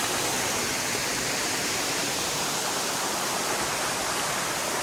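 A mountain stream at Kotaganga in Knuckles, Sri Lanka, spills down into a waterfall, producing a constant, close, full rushing roar with no voices.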